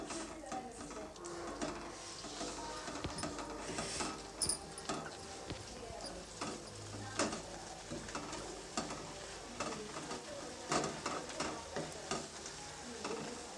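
Carrot halwa cooking in ghee and milk is stirred in a pan, giving soft scraping and gentle sizzling in a close, steady rhythm.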